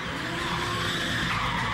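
A car roars loudly and continuously with a harsh, rushing engine and tire noise, close by and steady, with no voices.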